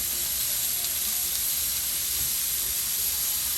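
Steak sears in a hot pan for Steak Diane, giving a loud, steady hiss and sizzle that holds evenly throughout, close up, with no speech.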